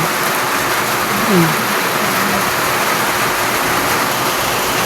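Rain falls steadily during the rainy season, a constant loud hiss with no breaks. A brief faint voice sounds once beneath it.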